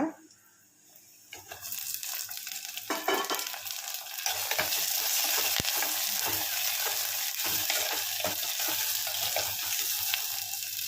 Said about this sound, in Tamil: இந்த தக்காளியும் வெங்காயமும் நல்லா வதங்கட்டும்